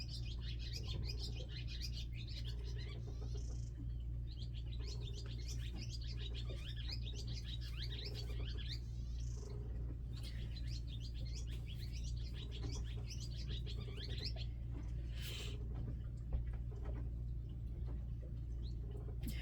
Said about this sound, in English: I love that bird.